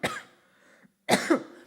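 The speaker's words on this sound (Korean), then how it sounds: "이렇게 기침을 하더랍니다" A preacher acts out coughing: two bursts of harsh, close coughs separated by a short silence, the first trailing off and the second loud, with two quick hacking pulses.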